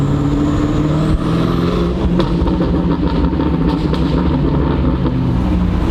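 A 2019 BMW M5 Competition engine with aftermarket Armytrix downpipes and a tune roars steadily and loud throughout, a continuous high-revving growl with no pauses.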